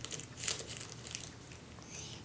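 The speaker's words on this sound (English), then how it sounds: "I'm going to take my scissors and cut this birdhouse open." Scissors snip open a craft birdhouse, giving a few quiet, crisp crunching cuts at close range with no one speaking.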